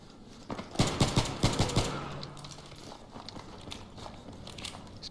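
Rapid burst of automatic gunfire in the Battlefield 3 video game, a loud rattling string of about eight shots over one second, followed by quieter distant battlefield noise and scattered faint pops.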